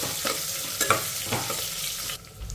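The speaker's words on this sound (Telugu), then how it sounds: "ఇప్పుడు ఎండుమిరపకాయని కూడా 1 నిమిషం ఇలా కలుపుకుంటూ ఫ్రై చేసేసుకోవాలి మీడియం ఫ్లేమ్లోనే" Dry red chillies and onions fry in oil over a medium flame, with a steady close sizzle and a few scraping stirs of a spoon against the pan; the sound eases near the end.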